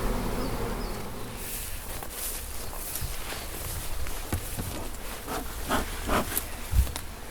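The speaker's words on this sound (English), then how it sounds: "Loads of bees." Buzzing of many honey bees at close range at a hive, a busy hum with individual insects passing near, plus occasional rustling and a soft thump.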